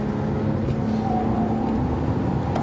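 Bentley Continental Supersports braking hard and downshifting on the Nurburgring, a steady loud in-car engine roar with shifting tone and no voices.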